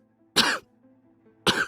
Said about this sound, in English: bursts into a coughing fit as if something had suddenly triggered it.